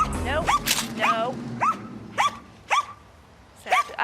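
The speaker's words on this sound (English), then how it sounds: "I don't like it when he barks at me" An energetic dog at a training league barks repeatedly at close range, sharp rising yips and barks coming in an uneven rhythm about every half second.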